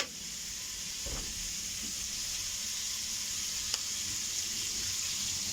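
Liver frying in a pan, a continuous bright sizzle with a couple of faint utensil taps, close and steady, with no voices.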